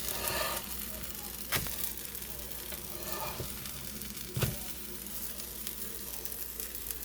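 Pancakes frying on a hot surface after being flipped, a steady soft sizzle with a few sharp clicks from a spatula or utensil, fairly close and with no talking.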